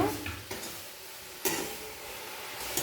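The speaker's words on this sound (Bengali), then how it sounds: "নাড়াচাড়া করে রস শুকিয়ে নারকেলের চৌ তৈরি করে নেব" Coconut filling with cashew pieces stirred in a pan while its syrup cooks down, a soft steady sizzle broken by a few sharp spatula knocks against the pan.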